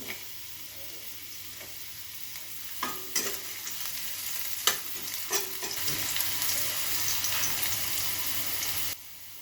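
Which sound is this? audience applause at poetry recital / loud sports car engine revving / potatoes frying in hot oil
potatoes frying in hot oil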